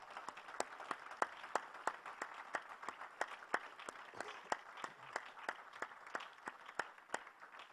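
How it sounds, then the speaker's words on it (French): A church congregation claps in unison to praise God after prayer, an evenly spaced beat of sharp claps over a soft crowd wash, moderately distant in a large hall. "Et puis tu peux acclamer ton Dieu qui t'a exaucé."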